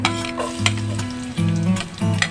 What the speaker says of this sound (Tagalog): Nainit na yung pan. Lagayin natin una ang bawang.